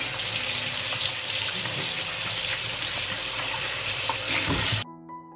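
Fresh peppers washed under a running kitchen tap, with a steady, loud splashing stream of water hitting the sink that cuts off abruptly near the end, leaving a quiet room tone.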